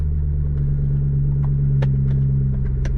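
A 4.2-litre Jaguar XKR (X100) engine idles with a steady low drone, its revs settling down, with a few faint clicks and taps over the rumble.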